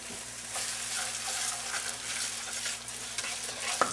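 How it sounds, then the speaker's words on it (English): Risotto rice being stirred and fried in a pan, a close, steady sizzle with soft scraping of the spoon through the grains, continuous throughout with no talking. "Kind of stir the risotto and let it fry a little bit too."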